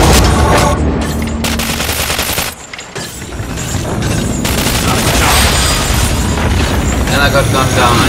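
Dense, loud gunfire fills a firefight in the video game Cryostasis, with sustained automatic bursts and booms that dip briefly before surging back, and voices talking over the din.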